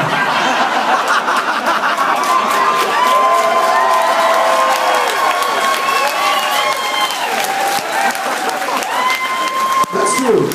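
A large concert crowd at a show on the 2014 UK tour screams and cheers loudly and continuously, with whistles and scattered shouts rising over a sustained roar of voices.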